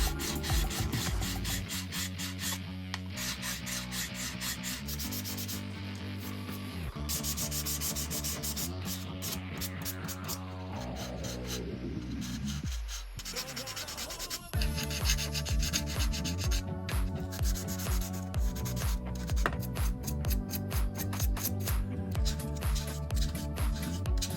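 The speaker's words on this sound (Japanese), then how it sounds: "この面に沿ってねヤスリを動かしていきます。" Fine file work on the surface of a Hasegawa 1/32 Raiden Type 21 plastic model kit, the file moved in circles along the panel: a close, continuous rhythmic rasping and rubbing with no talk.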